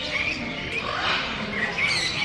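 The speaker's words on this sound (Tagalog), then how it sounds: "Ito yung mga ibon ni kuya." Caged birds at a bird expo in Pleasanton, California, chatter and call in a busy crowded hall, a steady overlapping mix of chirps and squawks with no clear pause.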